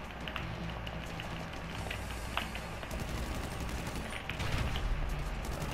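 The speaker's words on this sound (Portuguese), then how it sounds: "Cara, um tiroteio desenfreado aqui." Dense, continuous gunfire rattles through a GTA V Online adversary match, a busy mix of distant and nearer shots forming a steady crackling wash with no clear breaks.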